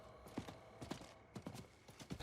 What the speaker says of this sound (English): Hop on the old horse and get back to town.